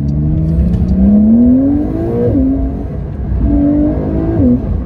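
A Porsche 992 Carrera 4S engine revs hard, pitch climbing smoothly then dropping at gear shifts, rising again in a second pull; loud and close, no talk.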